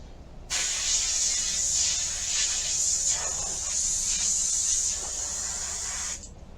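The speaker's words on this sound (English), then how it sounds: "spraying the airbrush onto my fingers to clean those off with alcohol" A steady, hissing airbrush spray of alcohol runs continuously for about six seconds, with slight pulses in the stream, then cuts off abruptly.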